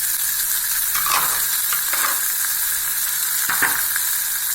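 Curry leaves, coriander and green chillies sizzle steadily in a hot pan with coconut, a continuous close frying hiss broken by a few brief stirring scrapes, with no voices.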